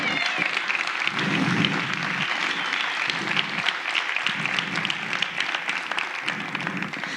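Applause from a church congregation during a sermon, a steady wash of many hands clapping that keeps going for several seconds at moderate loudness, with a faint voice underneath.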